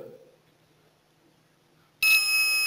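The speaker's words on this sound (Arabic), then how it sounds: "فإن الجرس يرن." An electric bell wired to a battery in a simple circuit starts ringing abruptly after a long near-silent stretch, a loud, continuous metallic ring with no voices.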